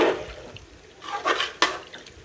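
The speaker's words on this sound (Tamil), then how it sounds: "பாருங்கள் தண்ணி இன்னொரு கப்பு நான் ஊற்றிக்கிறேன்." Cup of water being poured into a cooking pot while preparing fish biryani, a short gush and splash with a few trickling drips, close and fairly loud.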